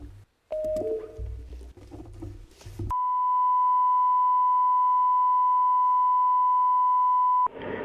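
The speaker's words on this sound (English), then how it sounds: "This is the Northern Ireland Assembly Senate Chamber programme sound." A steady electronic programme sound tone from the Northern Ireland Assembly Senate Chamber holds for several seconds after some brief clattering, cutting off abruptly at the end.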